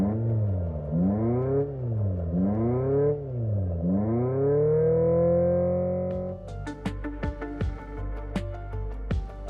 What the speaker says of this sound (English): despite the fact that it's an electric vehicle, one of the most interesting things about it is how it sounds